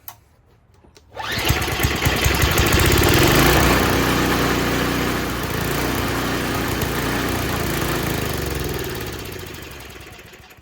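Small snowblower engine started with the choke on, catching after a second of quiet and then running loud and steady at a rough idle for the rest of the clip, without letting up.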